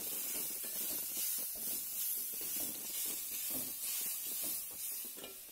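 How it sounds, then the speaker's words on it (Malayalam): Onions sauté in oil in a pan for a Kerala-style chicken curry, a steady, dense hiss and sizzle that stays even throughout, with faint stirring movement underneath. "നിങ്ങളുടെ ആവശ്യത്തിന് ഉള്ളി ഓരോ സംഭവങ്ങളും വഴറ്റിയെടുക്കണം. ഇതൊന്ന് നന്നായിട്ടൊന്ന് വഴണ്ടുവരട്ടെ."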